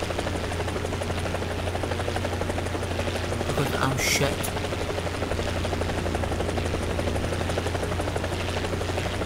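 A helicopter in the War Thunder video game drones with a steady low rotor hum and buzzing engine throughout, while someone talks over it and a brief sharp burst cuts in midway.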